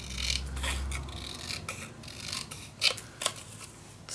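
Scissors snipping through paper for a mini baby album craft, heard as a few close, crisp cuts with short rasping strokes and small pauses between them, with no talk.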